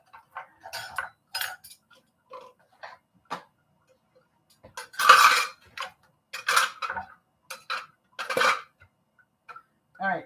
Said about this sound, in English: I'm just cleaning up so that I can do the next thing.